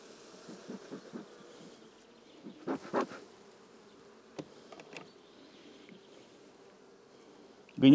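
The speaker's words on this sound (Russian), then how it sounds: "Хорошая пчела." Buckfast honey bees hum around an open hive during an April inspection, a soft steady drone with a few brief louder buzzes passing close, and a sharp knock at the very end.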